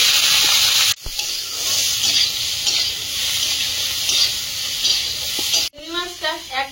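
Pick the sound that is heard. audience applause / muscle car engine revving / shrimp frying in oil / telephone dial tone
shrimp frying in oil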